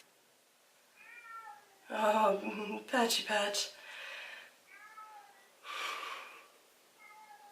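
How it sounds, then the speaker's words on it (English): A cat outside a door meows several times in short, nasal mews spread across the clip, while a person talks loudly in between. "If you hear the cat, I'm sorry. He's just sitting outside my door."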